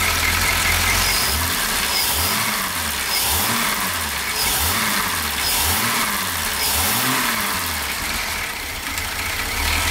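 A Jaguar XJ6 engine runs steadily with a deep, throaty exhaust rumble, holding loud and close throughout with slight rhythmic pulsing in the low end.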